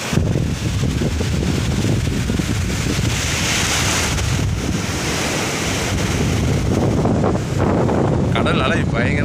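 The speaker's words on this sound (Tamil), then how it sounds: "கடல் அலை பயங்கரமாக இருக்குப்பா." Sea waves crash and wash continuously on the shore at Tiruchendur, a loud, dense surf roar with wind buffeting the microphone and a voice speaking over it.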